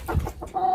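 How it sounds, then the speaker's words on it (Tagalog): Pet chickens cluck in a few short, close bursts over less than a second, with no talking. "Yung mga alaga kong manok nandito."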